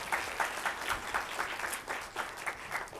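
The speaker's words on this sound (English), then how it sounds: "I think we owe our panelists a round of applause." Applause for panelists at a training conference, fairly faint and somewhat distant, a continuous patter of many hands clapping over about three seconds with no speech.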